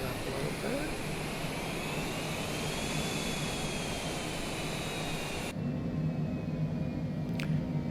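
Jet airliner engines throttling up in a flight simulator on approach to a runway, a steady loud roar with a high whine that rises gently, continuous throughout with a brief tonal shift near the end.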